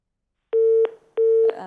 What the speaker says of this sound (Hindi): लाइन जो है वो डिस्कनेक्ट हो गई